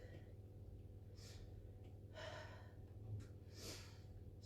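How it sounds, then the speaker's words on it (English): Heavy breathing after a bodyweight HIIT workout, with several audible exhales and gasps rising over a steady low hum, close but fairly faint. "Starting to calm my breathing down now."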